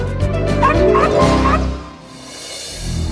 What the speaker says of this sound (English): the world's second smallest dog is Buddy's sister, Monica.